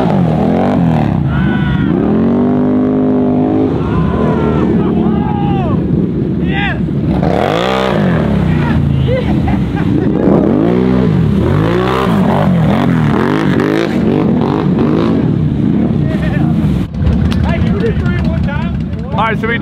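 A Can-Am off-road vehicle revving hard while pulling reverse wheelies in mud at a Texas mud park, its engine rising and falling in repeated surges, loud and near, with people talking over it throughout.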